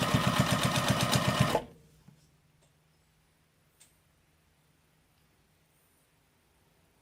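A sewing machine stitches along the edge of a tote bag in a loud, rapid, even chatter for about a second and a half. Then it stops dead, leaving near silence with a few faint clicks.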